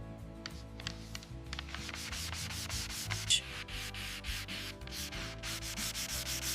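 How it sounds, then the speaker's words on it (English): Fine sandpaper rubs back and forth over old wooden planks in quick, continuous strokes, a close, steady scratchy hiss with no voices. "Now switching to fine sandpaper for a silky, smooth finish."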